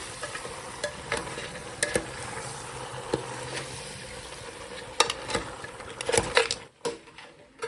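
A spoon stirs goat head curry through the tempering in a pot down to the bottom, giving repeated close scraping strokes over a continuous soft sizzle.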